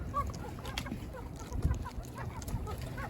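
Old runner ducks, including chocolate and silver or blue runners, quacking outdoors on a snowy farm, with several overlapping honking quacks scattered throughout at moderate volume.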